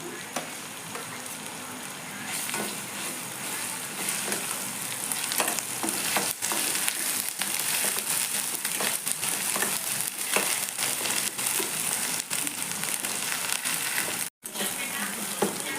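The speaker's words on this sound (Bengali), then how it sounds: "আদা মশলাটা ভালো করে ভাজি নিচ্ছি" Ginger, garlic and onion paste frying in extra oil for an egg and potato curry, a loud continuous sizzle with scraping stirring strokes throughout, no voices.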